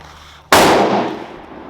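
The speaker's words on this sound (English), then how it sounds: "we are shooting, I don't know if you can see it, but RWS rifle match" A single loud, close rifle shot from a Tikka T1x with a 16-inch barrel firing RWS Rifle Match ammunition, a sharp crack followed by a decaying echo.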